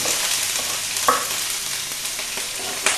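Ginger and green chilli frying in three tablespoons of hot sunflower oil for gobi manchurian, a dense continuous sizzle with a couple of brief stirring knocks.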